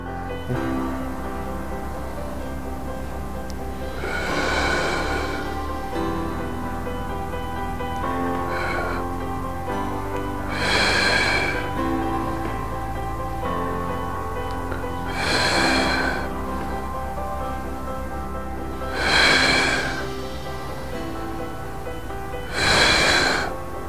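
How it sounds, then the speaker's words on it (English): Deep breaths in and out during a classical Pilates mat exercise, four or five loud breathy bursts spaced a few seconds apart over steady background music. "you inhale and exhale"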